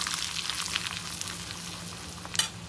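Asafoetida powder dropped into hot oil already holding mustard seeds and cashews, a steady close sizzle with faint crackles and one sharp clink near the end, no speech.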